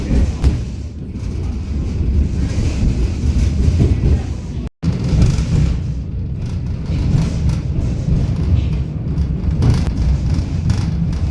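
A Banater Bergbahn train runs from Deutsch-Orawitz to Anina in Romania, heard from inside as a steady, loud rumble and rattle of the carriage on the rails, with one brief dropout midway.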